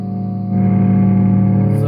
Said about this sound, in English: I don't use the overdriven sound, but if I was to, let's put the preamp right up.